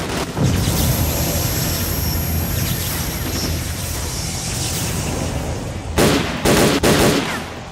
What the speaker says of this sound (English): There's like a dozen people shooting at me.